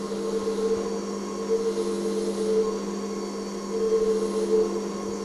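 A metal lathe hums steadily with a constant whine and faint metallic cutting noise while cutting a 2x45 chamfer on a 15.88 mm diameter, evenly sustained without pauses.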